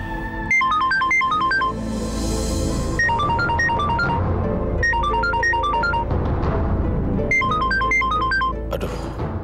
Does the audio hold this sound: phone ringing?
yes